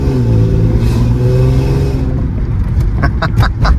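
A Mercedes C32 AMG V6 with a custom 3-inch exhaust and cat delete revs loudly up close, a raspy, tinny roar that falls back to a burbling idle.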